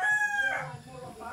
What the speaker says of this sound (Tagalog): Lagan silang manok, guys. So mini, mini chicken.